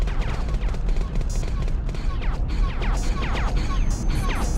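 Weapons firing in the PlayStation 1 game Independence Day, a continuous rapid stream of shots and laser-like zaps over a constant roaring engine drone, loud and dense throughout.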